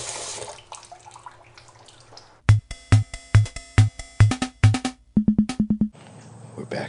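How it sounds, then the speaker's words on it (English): Water sprays into glasses in a run of about a dozen short, sharp bursts, first evenly spaced and then quicker near the end, each with a hollow ringing tone. The bursts are close and loud and have no talk over them. "that is water spraying intermittently into glasses."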